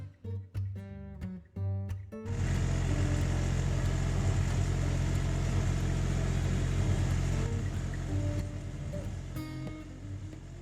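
A four-wheel-drive car in fourth gear pulls a trailer loaded with a heavy tree trunk. A few sharp knocks come first, then a loud, steady engine roar and road rumble continue to the end.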